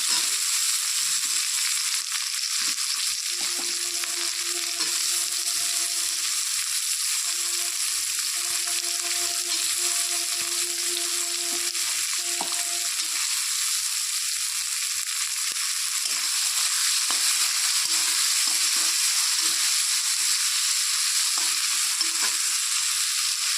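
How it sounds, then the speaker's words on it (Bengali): Chopped onions sizzle in hot oil for a chicken curry, a loud continuous frying hiss close by with occasional stirring scrapes and a faint hum underneath. "পেঁয়াজটাকে একটু লাল লাল করে ভাজতে হবে।"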